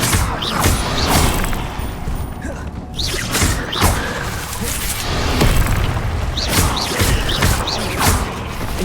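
Fire spell cast repeatedly in the video game Hogwarts Legacy, a run of loud whooshing bursts and booming impacts recurring every second or so over dense game effects.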